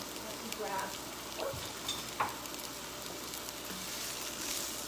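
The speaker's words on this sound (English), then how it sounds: "we're going to saute this down" Leeks sautéing in olive oil in a pan, a steady soft sizzle and frying hiss running throughout with a few faint stirring clinks, close and moderately quiet.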